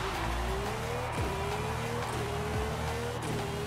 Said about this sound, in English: even the engine sounds different